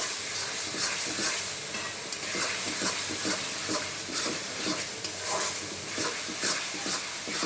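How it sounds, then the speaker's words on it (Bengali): Lentils frying dry in a pan for a vegetarian dish, stirred in a quick regular rhythm: soft scraping strokes over a low, constant sizzle, with no talk. "এই ডালটা আগে ভাজা ভাজা করে তারপরে একটু পানি দিয়ে কষাবো।"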